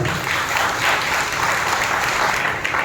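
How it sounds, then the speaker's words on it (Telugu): A church congregation at Sunday worship claps loudly and continuously, a dense, steady wash of applause filling the room throughout. "బిగ్గరగా చప్పట్లు కొట్టి ప్రభువుని మహిమపరచాలి బిగ్గరగా"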